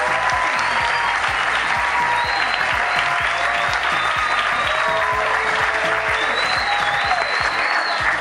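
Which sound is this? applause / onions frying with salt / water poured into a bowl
applause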